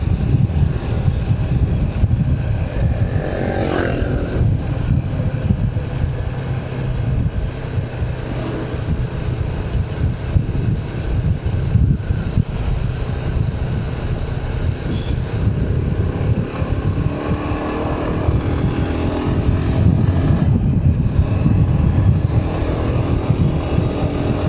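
Steady wind buffets a microphone outdoors on the road through Agoo, La Union, making a continuous low rumbling roar for the whole stretch with no one speaking.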